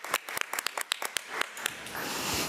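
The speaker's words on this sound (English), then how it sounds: "So let's give Ms. Glaze another round of applause." A few scattered hand claps at a school board meeting honoring a teacher, sparse and uneven at first, then thickening into a soft, steady patter of applause from a modest audience.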